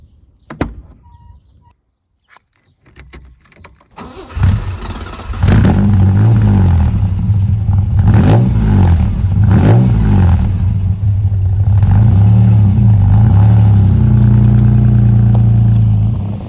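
A Ford Capri 2.8 Injection cranks and fires after a few quiet knocks, then settles into a loud steady idle with several rising revs, heard up close with no talk.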